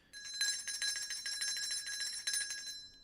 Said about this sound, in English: A little celebratory bell there.